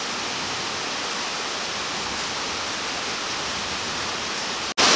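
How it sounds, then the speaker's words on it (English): Steady, dense hiss of heavy rain pouring down continuously, broken by a brief dropout near the end. "Yeah, that rain's coming down."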